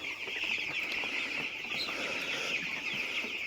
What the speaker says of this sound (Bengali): সকাল সকাল পাখির কিচিরমিচির শব্দ।